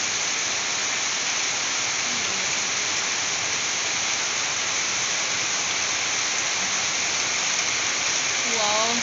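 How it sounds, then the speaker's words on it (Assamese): Heavy rain falling outside, heard from indoors as a loud, dense, continuous hiss with no pauses, steady throughout, with a faint bird call near the end. "ভিতৰৰ পৰা লৈ আছোঁ বৰষুণৰ মজা।"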